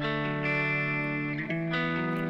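A vocal processed with a Waves GTR amp stereo distortion plugin, giving a dense, buzzing, harmonically rich sustained tone with shifting pitch, loud and continuous.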